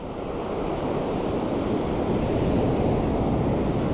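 Steady wind and sea waves wash continuously at a shoreline during light spinning fishing in Portugal, a loud, unbroken rushing roar with no voices.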